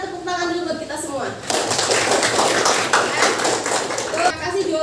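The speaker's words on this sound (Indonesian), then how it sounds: "Sebelumnya kita tepuk tangan dulu buat kita semua" A classroom of pupils claps hands together with their teacher in a junior secondary school lesson; a steady burst of group clapping starts after some speech and carries on under voices to the end.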